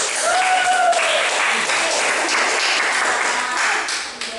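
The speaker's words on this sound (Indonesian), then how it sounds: "Tepuk tangan untuk hadir" Sustained applause from a classroom audience as a student group steps up to present during a teacher-training session, broad clapping filling the whole stretch with brief tonal sounds early on.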